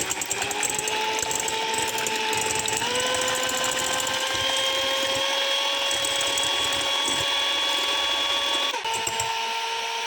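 Electric hand beaters whisk a foamy lemon mixture with a steady, close motor whine that steps up in pitch partway through and dips briefly near the end.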